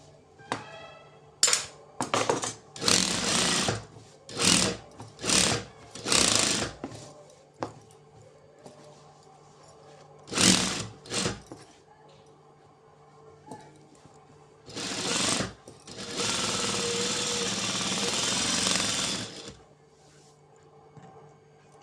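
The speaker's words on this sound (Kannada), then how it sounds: "ಲೈನಿಂಗ್ ಮೇಲೆ ಒಂದು ಕಿನಾರಿ ಥರ ಸ್ಟಿಚ್ ಹಾಕ್ಕೊತೀನಿ" A sewing machine stitches the lining of an umbrella-style top, running in short bursts and then one longer steady run of mechanical whirring. Close and fairly loud, with pauses of near silence between the runs and no talking.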